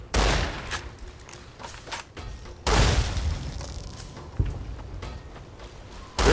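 Rifle fire at giant ants in Fallout: New Vegas, a series of sharp in-game shots and booms in bursts, with one heavy blast near the middle and scattered smaller reports and footsteps between.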